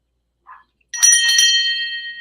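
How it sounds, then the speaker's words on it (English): Vintage brass hand bell with a brass clapper, rung after a faint tap: a bright, close metallic clang with two quick strikes that leave a long shimmering ring fading slowly. "it's a vintage bell. It's not really super old, but it is brass, and it does have the brass clacker inside"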